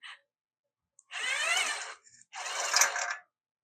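A small 11/32 nut driver backs a nut out of a Quest 335 dehumidifier during a sensor replacement, giving two close bursts of scraping, ratcheting metal turning about a second apart, with a faint click before them and no talk.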